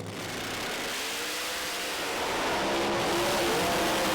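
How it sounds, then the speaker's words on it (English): A Pro Mod drag racing car launches down a quarter-mile strip at a British Drag Racing Championship round, its engine roaring with tyre shake and pedalling, the sound swelling steadily louder from a moderate distance. "lots of tyre shake and pedalling going on for Mark Hartvelt."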